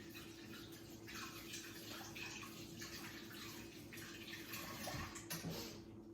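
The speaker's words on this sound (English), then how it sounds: "let me wash my hands off because I got a top on that one" Water from a tap runs steadily over hands being washed in a sink, a continuous rushing splash with small shifts as the hands move through the stream; no one speaks.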